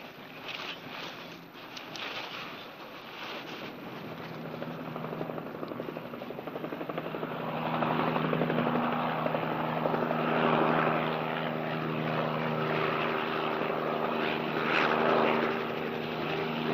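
A police helicopter flies over a desert town in a 1955 patrol drama, its rotor and engine giving a steady, loud drone with a throbbing low hum that swells slightly midway and holds throughout.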